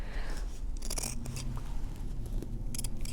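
Scissors snipping loose threads from a fabric patch during sashiko mending, several quiet close crisp cuts scattered over a few seconds under faint background hiss.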